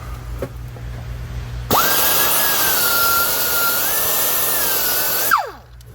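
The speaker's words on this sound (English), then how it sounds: "I took the burr off because we didn't cut all the way through, and then we broke it off." A power tool grinds the burr off a partly cut stud end during a GM turbo inlet install, a steady high whine running about four seconds then spinning down, loud and close, with no talk.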